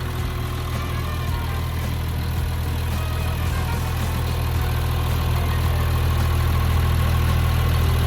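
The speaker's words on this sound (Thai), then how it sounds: "พวกเสียงเครื่อง การทำงานของตัวเครื่องยนต์ของเขาเนี่ยนะครับ ก็ทำงานได้แน่นนิ่ม" A large Caterpillar 336D 30-ton excavator's C9 diesel engine idles steadily with a deep, even rumble and constant low drone throughout, no voices.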